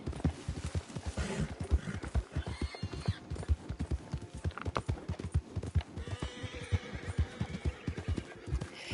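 Horse hooves clip-clop in a steady walking rhythm in the Red Dead Redemption 2 video game, close and even throughout, with a faint whinny mixed in.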